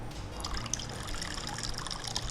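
Water is poured into juice to dilute it, a faint, continuous liquid trickle heard close by for a couple of seconds with no talking.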